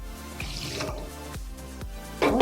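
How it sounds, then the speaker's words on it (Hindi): Water from a bowl is poured onto sugar in a pan to start a syrup for besan imarti, heard as close splashing and dripping with a few distinct drops and a louder splash at the end, and no speech. "चाशनी बनाने के लिए हम शक्कर डालेंगे और इसमें 1 कटोरी पानी डाल देंगे"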